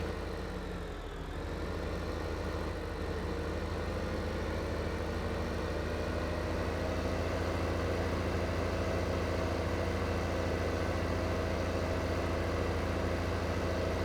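A tractor engine in the Farming Simulator 2015 game runs with a steady, droning idle, loud and continuous throughout with no voices over it.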